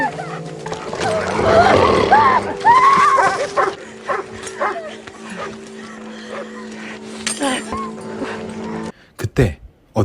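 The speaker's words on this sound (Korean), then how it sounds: "굶주린 개들은 엄마에게 달려들었고" Hungry dogs snarling, whining and yelping in a chaotic scuffle as they attack a woman, loud up close, with a low steady hum beneath and a few sharp knocks at the end.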